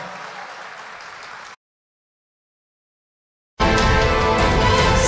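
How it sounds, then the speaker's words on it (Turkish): Audience applause at a film festival launch meeting in Istanbul, a sustained wash of clapping that cuts to silence for two seconds and then returns much louder and closer. "Yılların emektarına daha güçlü bir alkışınızı sizlerden rica ediyoruz."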